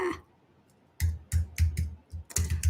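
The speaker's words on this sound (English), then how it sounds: "I'm going to type it in the chat." Typing on a computer keyboard, a quiet pause followed by several short bursts of key clicks, close by and alone.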